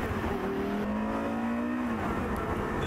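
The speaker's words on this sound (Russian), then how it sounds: "Обороты повышаются быстро" A Porsche Carrera GT sports car's engine revs up in a steady, smooth climb lasting a couple of seconds before settling back, moderately distant and fairly subdued, with no voices.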